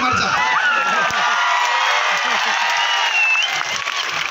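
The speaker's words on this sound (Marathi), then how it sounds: "टाळ्या सर्वांनी जोरात वाजायच्या." Crowd applause at a live speech event, a loud continuous wash of clapping and cheering with whoops and shouts rising above it, holding steady throughout.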